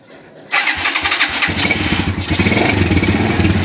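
A motorcycle engine cranks on its electric starter, catches after half a second and settles into a loud, close, steady idle with a rapid even pulse.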